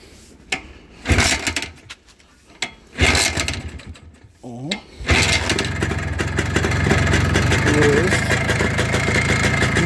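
Minsk motorcycle with a freshly repaired gearbox: after several short bursts and a starting attempt, the engine catches around the midpoint and settles into a steady, close, loud running drone for the remaining seconds, with no talk over it.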